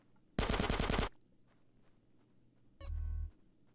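MP5 gunfire in GTA San Andreas: one loud, rapid automatic burst of under a second, a short pause, then a second, lower and heavier burst, both close and without talk.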